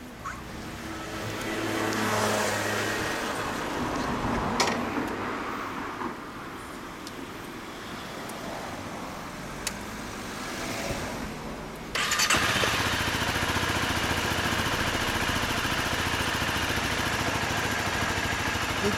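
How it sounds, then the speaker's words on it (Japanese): A Honda CBR250R MC41 motorcycle engine starts partway through after a stretch of quiet outdoor background, then settles into a steady, close, continuous idle with no talking. "今日のエンジンかけてもらえる？"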